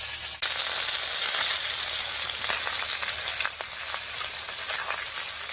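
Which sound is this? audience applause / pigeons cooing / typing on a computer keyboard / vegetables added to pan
vegetables added to pan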